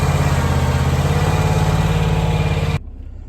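A Kawasaki FX651V engine of about 20.5 horsepower runs steadily on a Bob-Cat Quickcat 4000 48-inch mower, a loud close droning hum that cuts off abruptly near the end, leaving faint background noise.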